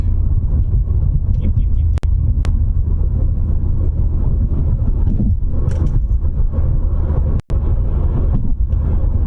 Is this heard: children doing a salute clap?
no